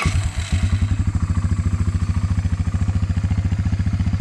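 A Honda Fourtrax 300 ATV engine idles close by with an even, fast, thumping pulse that holds steady throughout; it is loud and has no talk over it.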